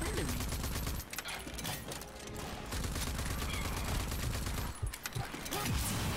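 Sustained gunfire in the shooter game Rage 2, a loud dense fusillade of overlapping shots and bursts throughout, with a few sharper cracks standing out near the end.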